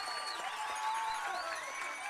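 A Bourne Braves home crowd at a summer collegiate baseball game between the Cotuit Kettleers and Bourne Braves cheers and applauds steadily after a run scores in the bottom of the 8th, a distant, diffuse wash of clapping and whistles.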